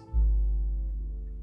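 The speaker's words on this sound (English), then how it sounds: "The 808 normally sounds like this," A single 808 bass note from FL Studio, set with a little attack and full hold, booms deep and sustained, decaying slowly over about a second and a half, alone and fairly loud.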